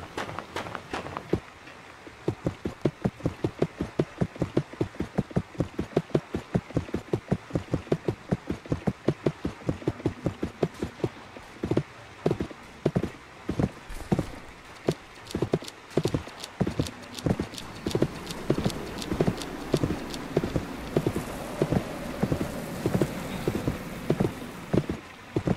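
Horse hooves clip-clopping in the Roblox western video game Westbound, a steady close rhythmic trot that holds for the whole stretch and picks up pace toward the end.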